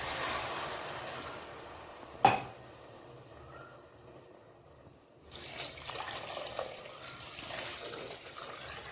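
Water trickles into a pot of rice and toor dal for cooking drumstick leaves rice. A sharp clink opens it, then a pouring trickle runs steady, and a second pour follows after a brief pause.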